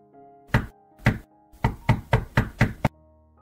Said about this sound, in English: Suddenly, they heard a knock at the door.